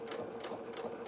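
Sewing machine stitching fabric along a folded edge, a rapid steady whirring with rhythmic mechanical pulses, close and fairly quiet throughout the short burst.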